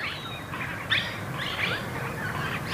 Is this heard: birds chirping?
yes